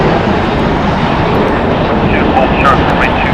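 An airliner at LAX airport, a loud steady jet roar filling the air close by, constant and unbroken, with faint higher tones drifting over it.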